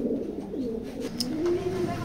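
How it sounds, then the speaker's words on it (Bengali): Racing pigeons coo softly in a low, rolling series of murmured calls, close by and steady throughout, with no one talking over them. "কবুতরটা অরিজিনাল রেসার।"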